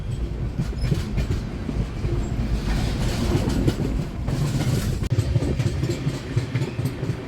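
A train rolling along the rails through Maharashtra, a continuous rumbling roar with rhythmic clacking and faint squeals, heard from inside the carriage.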